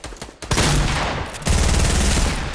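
Sustained, loud gunfire in a battle royale shooter video game, a dense fusillade of rapid shots starting after a brief pause and running continuously to the end, with no talk over it.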